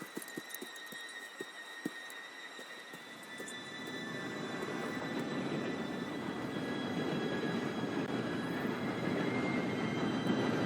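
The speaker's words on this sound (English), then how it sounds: "Train should be here any minute." A steam-era train approaches in Red Dead Redemption 2, starting with faint sparse clanks and then swelling into a growing rumble with high metallic wheel squeal as it nears.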